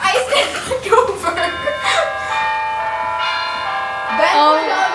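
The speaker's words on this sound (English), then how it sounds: "Ring the bell." A bell rings out as an alarm in a school staging of Macbeth, sustained resonant tones ringing over overlapping voices and some laughter, loud and close.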